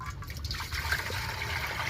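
Water pours and splashes steadily into a bowl for a dog to drink, a close, continuous gushing trickle lasting the whole short stretch without speech.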